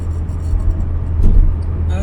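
An Austin Allegro, an older car, driving on the road, heard as a steady low engine and road rumble from inside the cabin with a slight swell midway.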